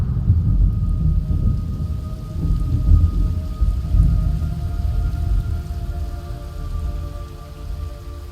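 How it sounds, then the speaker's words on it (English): In the video game Metal Gear Solid Delta: Snake Eater, steady rain pours while low thunder rumbles and rolls continuously, loud and full, with no voices. "It's raining blood."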